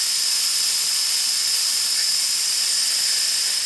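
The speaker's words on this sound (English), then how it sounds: "so let's let the pressure out of this one" Pressure cooker holding lamb stew venting steam after about 20 minutes of cooking, a loud, steady, high-pitched hiss that runs unbroken and close throughout.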